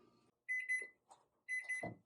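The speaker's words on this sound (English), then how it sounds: "So now you can hear that our timer is going off." A kitchen oven timer going off while bagels bake, two short bursts of high electronic beeping with a brief pause between them, heard fairly close in a quiet room.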